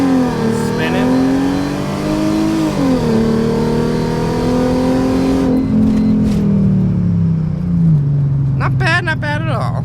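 A Mercedes SLK32 AMG's supercharged engine pulls hard, a loud close roar climbing in pitch, briefly easing at a shift, then climbing again before fading, with a voice near the end.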